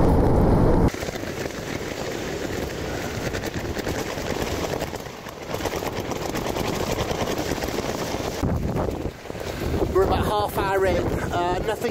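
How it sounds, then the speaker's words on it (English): Strong wind buffets the microphone in heavy gusts throughout, with a brief lull near the start and rustling at the end, at an outdoor fishing match. "it's very windy"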